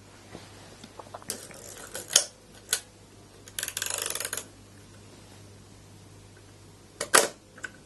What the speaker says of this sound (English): There goes the shutter.